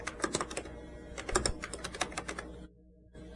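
Rapid bursts of key clicks from a Xerox Star computer keyboard as an address is entered, close and crisp, ending in a brief quiet pause before a few more sounds.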